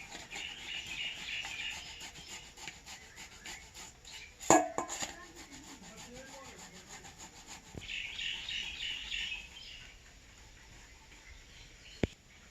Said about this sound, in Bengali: এখন আমি এই যে গ্রেট মেশিন দিয়ে গ্রেট করে নিব আলু আর কলাগুলো